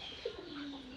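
Pigeons coo softly around a rural pigeon house, a brief low murmuring call rising over faint ambient chirps, close and alone with no voices.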